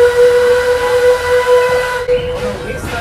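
A steam locomotive on the Western River Railroad blows a long, loud steam whistle as a single sustained tone with hiss underneath, then breaks off into steam noise near the end.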